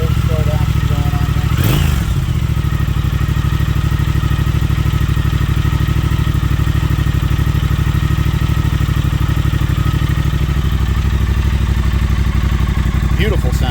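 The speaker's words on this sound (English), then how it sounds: "Let's listen for that fuel injection." A 2020 Triumph Thruxton TFC motorcycle engine in road mode idles after a cold start with its fuel injection ticking, a steady close loud rumble with a brief blip near the start and clattering mechanical texture throughout.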